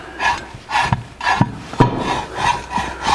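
A pivot shaft is screwed into a steel bushing on a 1964 Chevrolet C10 pickup, giving rhythmic close scraping and grinding strokes with small metallic clicks, repeating about every half second.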